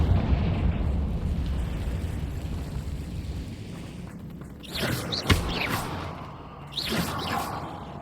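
A fiery Confringo spell bursts in the Hogwarts Legacy video game, two loud explosive blasts with whooshing tails over a steady rumbling game ambience, the second blast slightly softer than the first.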